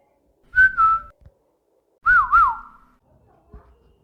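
A person whistles two short notes, the first a steady tone and the second a wavering warble, each clear and close against a quiet background.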